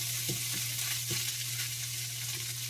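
Egg-soaked bread fries in a pan with a constant close sizzle, broken by a few soft thumps and scrapes as the pieces are turned.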